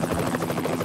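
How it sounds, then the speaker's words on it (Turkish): A cartoon helicopter arrives with a loud, steady rotor drone and rhythmic blade chop, close and continuous throughout without voices. "helikopterde ajanlar geliyor"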